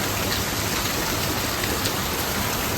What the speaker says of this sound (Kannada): ಇಷ್ಟು ಬೇಗ ಮಳೆ ಸ್ಟಾರ್ಟ್ ಆಗೋಯ್ತು